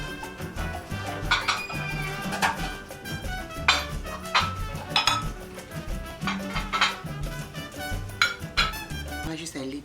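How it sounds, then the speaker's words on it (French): Salad plates set down on a dinner table being laid for guests, with repeated ceramic clinks and knocks over a bed of background music. "nous sommes prêts pour aller déposer les assiettes pour la salade"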